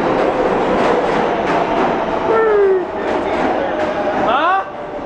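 A New York City 5 train on the subway near the 59th Street station roars steadily, with wheels squealing in rising and falling tones and a loud rumble throughout. Background voices blend into the noise.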